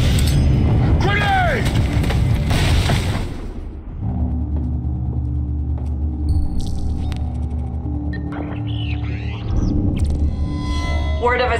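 A grenade explodes in the stealth video game Splinter Cell: Blacklist: a loud, dense blast fills the first few seconds, then drops to a low rumble and ambient drone with scattered game effects and voices.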